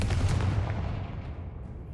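A Confringo fire spell from Hogwarts Legacy goes off as a loud booming blast with a heavy low rumble that slowly fades over two seconds, no speech over it.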